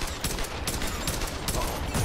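Rapid enemy gunfire rattles in the Tomb Raider video game, a dense, steady burst of automatic shots filling the whole short stretch at close range.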